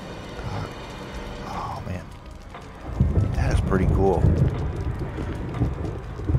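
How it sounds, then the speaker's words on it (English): Rolling thunder and a rainstorm in Resident Evil HD Remaster, a low rumble swelling partway through over a steady wash of rain, with fire crackling in the mix and a voice talking over it. "You got the sounds of the thunderstorm, you got the fire."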